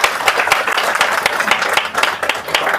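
An indoor audience at a business meeting claps together in a dense, uneven patter of many hands, loud and continuous with slight swells.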